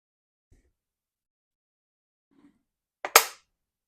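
A vintage German drilling gun is dry-fired on its front trigger, giving one sharp, close metallic snap after a few faint handling clicks in near silence.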